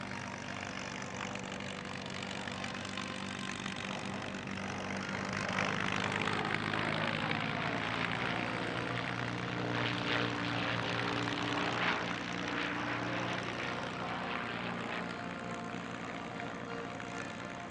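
Vintage aeroplane LZ-842, in Mediterranean theatre colours, flying at the Le Temps des Hélices airshow at La Ferté-Alais, giving a loud, steady propeller engine drone that swells in the middle and fills the whole stretch.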